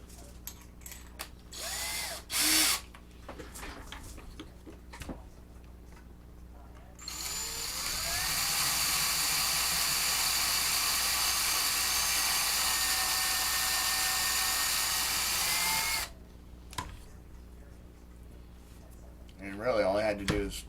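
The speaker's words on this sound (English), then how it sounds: "we're going to have to drill these" A small power drill whines steadily for several seconds as it bores into Star Wars DL-44 blaster prop parts, with short bursts before and after, surrounded by workshop handling noises.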